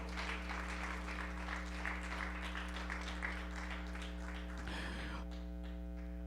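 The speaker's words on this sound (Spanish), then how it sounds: "Dele aplausos al Rey con todo su corazón." A church congregation applauds steadily throughout, a dense wash of clapping over a constant low electrical hum, thinning briefly near the end.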